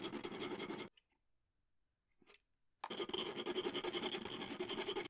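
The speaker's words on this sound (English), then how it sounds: "Repeat your respective sanding steps for the other HGG tip." A plastic pen tip is sanded by hand, giving close, quiet scratchy rasping strokes in two bursts separated by a pause.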